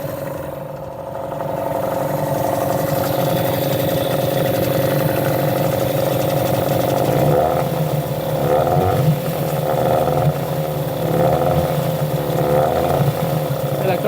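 Outboard boat engine running slightly unevenly while being started during winter storage, a steady close motor drone with a faint wavering irregularity throughout.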